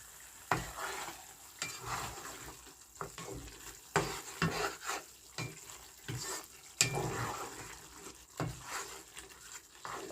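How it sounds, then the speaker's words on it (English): A spoon stirs a thick tomato and crayfish sauce in a pot over heat, giving soft repeated scrapes and clanks against the pot over a steady, faint sizzle. "let me give it a good stir before I add in my beans"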